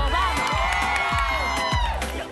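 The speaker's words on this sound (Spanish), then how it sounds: "Un aplauso para las chicas que están acá." A studio audience applauds and cheers for the girls in a loud burst of clapping and shouts, with a low rhythmic pulse of music running beneath.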